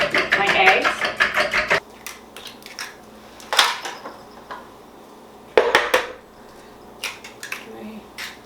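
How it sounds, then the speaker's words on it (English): Eggs being mixed in a bowl while Christmas baking: quick rhythmic clinking and tapping in bursts separated by pauses, close and fairly clear. "I mix that up first, my eggs"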